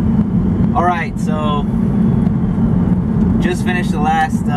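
A Nissan Altima SE-R drives on the road with a steady low engine and road rumble throughout, while someone talks over it.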